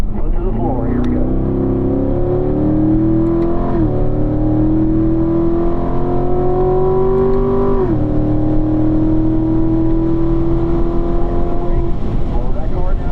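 A car on a race track straightaway revs hard and climbs in pitch through several gear shifts, each change dropping the tone before it rises again, loud and close.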